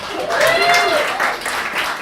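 Audience applause at a Crime Alley comedy show, a burst of clapping with cheering voices over it, fairly loud and sustained throughout.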